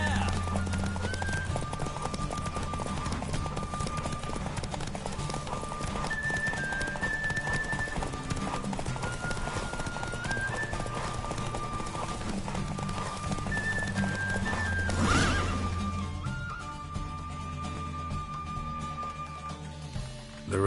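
A horse gallops during a race in The Witcher 3 with fast rhythmic hoofbeats and rushing movement under game music. A voice speaks at times over the running.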